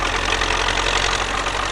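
A tractor engine in the video game Farming Simulator 2009 runs at steady, loud, continuous revs with a dense rumbling drone and no pauses.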